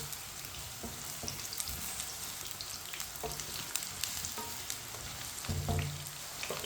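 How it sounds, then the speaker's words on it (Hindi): Eggplant frying in hot oil for aloo baingan, a steady dense sizzle with scattered clicks and scrapes of a stirring spoon, heavier stirring near the end. "बैंगन को मैंने 2 मिनट के लिए फ्राई कर लिया है। चम्मच चलाते हुए 2 मिनट के लिए पका लिया है।"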